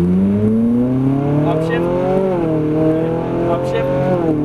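A Ferrari 458 Italia engine accelerates with rising, sweeping harmonics through upshifts, loud and close as from inside the car, with tire noise and a voice talking over it.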